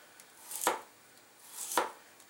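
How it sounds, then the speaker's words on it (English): A knife cuts hard carrots into thin slices on a board, giving two soft, separate chopping strokes about a second apart, close and quiet, with no talking. "So in fact I have to cut the carrots because they are hard and they need longer time."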